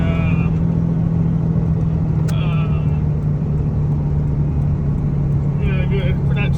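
A VP44-powered Cummins diesel 5-speed truck, 8,000 to 8,300 pounds, with a Fenley Precision Inductions HX35R Gen V turbo accelerating hard. It produces a steady loud low drone with a faint turbo whine, heard from inside the cab under continuous talk.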